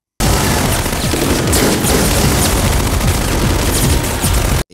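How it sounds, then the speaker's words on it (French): Gunfire rings out in a shootout scene from the 1997 French action film Dobermann, with dense, continuous bursts of loud automatic shots and booms packed together for several seconds without a break. "Fusillade."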